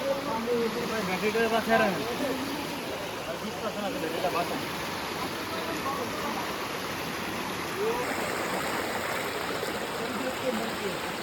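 Water from a waterfall-fed stream at Sitakunda on a rainy day rushes steadily in a continuous broadband wash, with faint voices briefly audible near the start.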